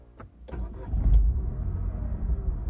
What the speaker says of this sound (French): Au démarrage, le TCE s'ébroue avec une sonorité de moteur diesel